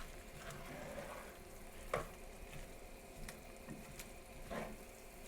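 Zucchini caramelizing in a pan gives a steady low sizzle, with utensil scrapes and clicks from stirring scattered throughout, heard up close and alone.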